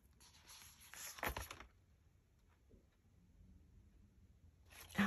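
Scissors snip through craft paper along a line while making a folded gift tag, a short burst of crisp cutting, then quiet handling noises and another brief cut at the end.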